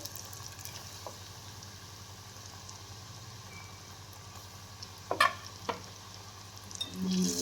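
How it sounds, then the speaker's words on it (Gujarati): Cornflour-coated potatoes frying together in hot oil over a full flame give a soft, steady sizzle, with a couple of brief clatters near the end and no voices. "એ બટેટાને એમાં આપણે ફ્રાય કરવાના છે"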